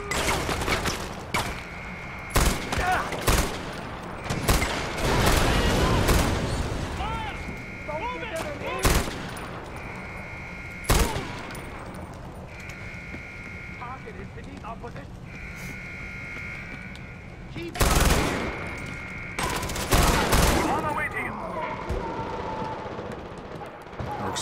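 Suppressed gunshots from silenced weapons in Far Cry 4, a series of short, sharp bursts at irregular intervals across the stretch, some in quick clusters, with game ambience and occasional talk between them.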